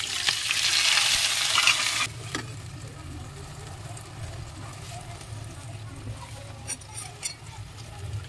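Browned fried onion is stirred into an egg mixture in a pan for a restaurant-style desi egg curry: a loud sizzling scrape for the first two seconds, then quieter, steady stirring and frying.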